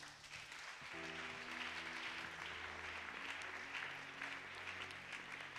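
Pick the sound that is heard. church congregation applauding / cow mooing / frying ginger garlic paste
church congregation applauding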